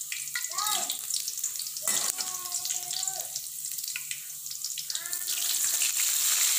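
Shallots and spice paste sautéing in a pan for an Acehnese eggplant and long bean dish: a steady bright sizzle and hiss, with a voice talking intermittently over it.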